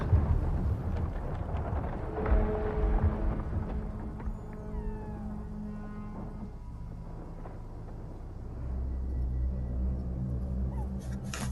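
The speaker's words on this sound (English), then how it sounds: "Definitely some lightning cracking, rocks crushing." Ominous obelisk activation in the Illuvium video game, with crackling lightning and rocks being crushed, layered over deep rumbling and swirling tonal effects that rise and fall over about eleven seconds.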